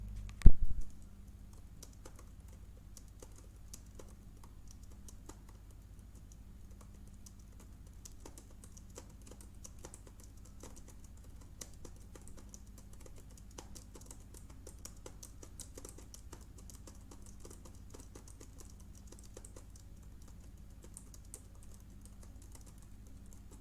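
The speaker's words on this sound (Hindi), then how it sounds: "यहाँ पे मैं बेसिकली कुछ भी टाइप कर देता हूँ" Steady, quiet tapping on a computer keyboard while entering text into a word processor, with rapid soft keystrokes continuing throughout after a single louder thump at the start.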